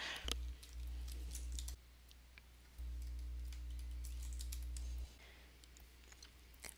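Computer keyboard typing while editing YouTube auto captions: sparse, faint clicks tapped out irregularly over a steady low electrical hum that drops away and returns.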